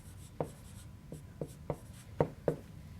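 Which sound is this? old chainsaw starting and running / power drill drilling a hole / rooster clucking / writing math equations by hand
writing math equations by hand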